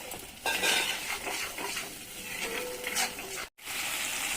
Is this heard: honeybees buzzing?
no